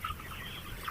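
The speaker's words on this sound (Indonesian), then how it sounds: "Lihat di kandang ini ayamnya" Chickens cluck softly inside a four-tier multi-level coop, a faint, steady murmur of hen calls over low background noise for a moment, with no talk.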